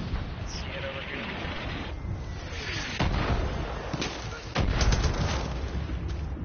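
Mortar explosions in the video game Far Cry 5, several heavy booms and crackling blasts at moderate distance, one after another over a steady rumbling background.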